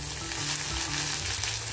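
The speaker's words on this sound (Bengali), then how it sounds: "কুচনো পেঁয়াজ আমি দিয়ে দিলাম।" Chopped onion hitting hot spiced oil in a pan gives a loud, close, continuous sizzle with crackling spits and no voices over it.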